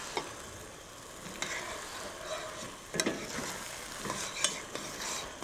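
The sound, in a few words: balsamic vinegar cooking down with onions in a pan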